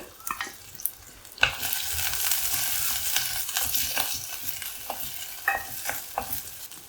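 Finely chopped ginger sautéing in a pan for a raw-mango curry, a steady bright sizzle broken by frequent scraping taps of a spoon stirring the pan, close and clear with no talking.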